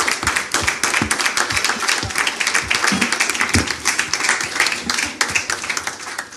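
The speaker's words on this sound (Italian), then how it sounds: "Signore e signori, vi chiedo un applauso per Marcello Newman, Dan Ben Sadun e Luigi Caggiano." A studio audience bursts into sustained, dense applause for three guests arriving on a comedy podcast stage, steady clapping filling the whole stretch at close, even loudness with a few scattered whoops.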